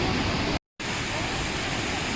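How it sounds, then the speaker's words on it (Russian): A large waterfall in Chiapas, Mexico roars in a dense, steady rush of falling water, loud and close, with one brief dropout in the sound. "Вот мы добрались до самого большого водопада."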